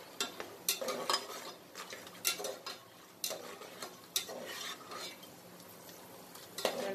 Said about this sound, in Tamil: முந்திரி செவக்குற வரைக்கும்